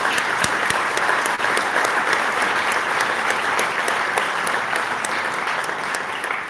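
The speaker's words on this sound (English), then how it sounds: "Let's give these people a nice round of applause." An audience applauding at a live show celebrating achievements tied to Kelso's legacy: dense, continuous clapping from a large crowd, loud and even throughout, easing slightly at the end.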